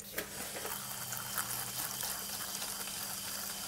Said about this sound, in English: of this powder into an ice cream bottle and add some hot water.